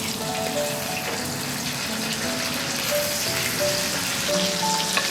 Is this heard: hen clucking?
no